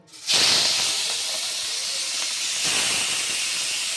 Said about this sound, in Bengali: কড়া গরম হয়ে গেছে, এবার আমি চিংড়ি মাছগুলো ভেজে নেব।